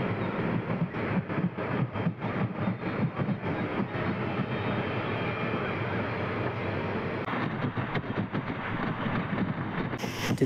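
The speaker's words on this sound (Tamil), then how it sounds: "இப்போ வந்து ட்ரெயின் 110 km/h போயிட்டுருக்காங்க." A train running at about 110 km/h on a newly electrified railway line between Tiruthuraipundi and Pattukottai, a steady loud rumble and rushing roar holding constant throughout with no talk.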